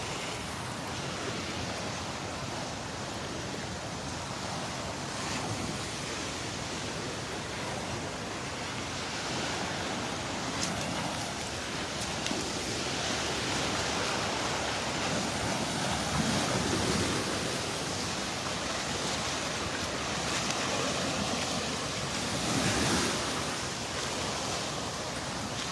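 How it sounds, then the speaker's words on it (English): Ocean waves roll over a shallow sandbar at Delnor-Wiggins beach, a continuous broad wash of surf with gentle swells in loudness, steady and unbroken with no talking. "Some waves rolling over the shallows there, the shallow water of the sandbar."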